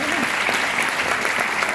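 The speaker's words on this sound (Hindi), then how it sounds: "जोरदार ताली हो जाए मैडम के लिए।" An audience claps in a dense, continuous burst, a close wash of many hands applauding together for a speaker at a motivational talk.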